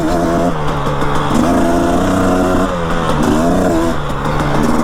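A dirt bike engine revs up and down in repeated surges as it rides back and forth outdoors, loud and close with a buzzing, rising-and-falling tone.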